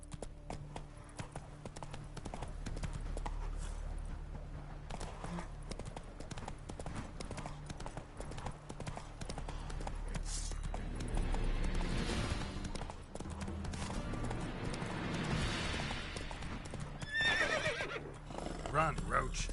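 Horse galloping with rhythmic hoofbeats and occasional neighs in the video game Witcher 3, steady and fairly close throughout, with a voice speaking over the action.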